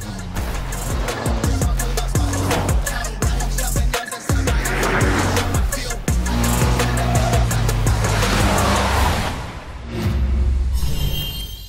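Driving in the video game NTE (Neverness to Everness), with a game car's engine and road noise running loud and steady, layered with music and game effects and a brief cut near the middle.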